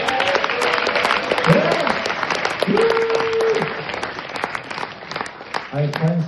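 Audience applause fills a one-man comedy show, a steady wash of clapping with a voice speaking over it throughout.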